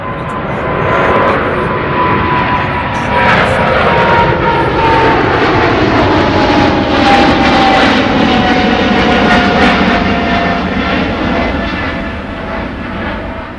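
Qatar Airways jet landing at London Heathrow, a loud close roar with a descending whine sweeping past over about twelve seconds before easing off.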